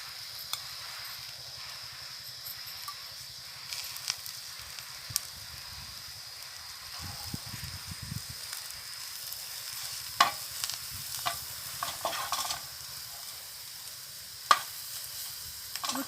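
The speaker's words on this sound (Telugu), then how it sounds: "ఊరికే పచ్చి వాసన పోయేదాకా వేయితే చాలు." Moringa leaves and grated carrot fry in a pan with a faint, steady sizzle, broken by occasional soft scrapes and clicks of stirring, heard close and quiet.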